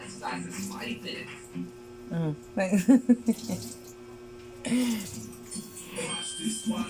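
Tap water runs into a sink while a cloth rag is washed and wrung, a steady splashing wash under a low mains hum, with people talking close by over it.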